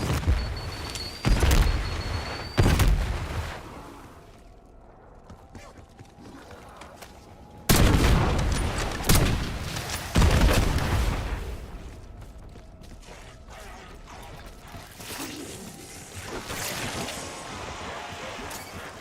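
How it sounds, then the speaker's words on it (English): Semtex grenades exploding in Call of Duty Black Ops 6 Zombies on the Liberty Falls map: several loud, sharp booms with decaying rumble, spaced a few seconds apart, over a low steady game backdrop. "Semtex, have fun."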